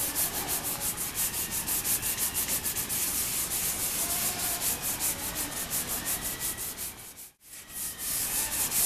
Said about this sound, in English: So sand just a little bit more